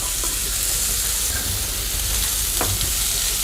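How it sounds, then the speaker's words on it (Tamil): Pumpkin pieces sautéing in a hot pan, giving a steady sizzle and frying hiss with soft stirring scrapes throughout, close and fairly loud, with no talk over it. "ஸோ இந்த இதில் வந்து இந்த பரங்கிக்காயை போட்டு வதக்கிடலாம்."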